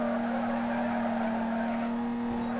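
In Need for Speed Carbon, a car drifts with a steady engine drone and a continuous tire squeal, loud and sustained throughout with no pauses.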